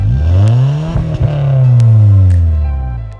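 A modified 2000 Honda Civic fitted with an HKS exhaust revs up loudly close by, the engine note climbing, briefly dipping, then swelling again into a sustained high rev before easing off.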